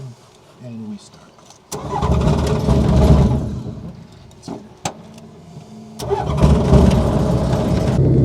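A Rotax light aircraft engine cranks and catches at startup, rising into a loud, steady run, with a brief dip before picking up again; the pilot and passenger talk in the cockpit.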